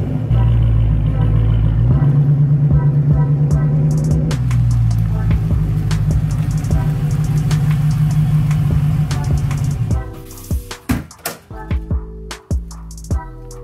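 2014 Dodge Challenger SRT8 V8 idles loudly up close with a deep, lumpy rumble that shifts pitch partway through, then the engine note drops away into quieter mechanical clatter near the end.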